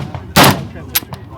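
Two loud, close gunshots at a shooting range during a shooting competition: a sharp, heavy first blast, then a shorter second report about half a second later, with faint range noise in between.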